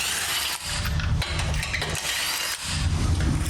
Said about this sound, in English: I'm just going to use my impact wrench to do it quickly.